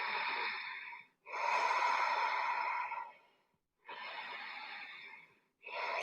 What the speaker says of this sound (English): Feeling the whole body breathing.